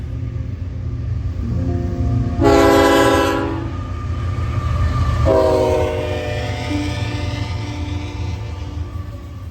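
A BNSF ZLAC NYC intermodal freight train rushes past the Augusta depot with a loud steady roar of wheels, broken by two long horn blasts, the first stronger, the second fading.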